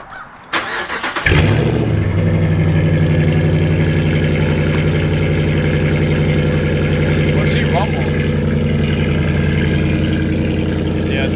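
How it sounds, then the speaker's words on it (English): A Ram pickup fitted with an MBRP catback exhaust and 4-inch stainless steel tips fires up from cold, a short crank followed by a loud, steady, rumbling idle that carries on close by. "I'll give you a little walk around of a cold start up of the exhaust."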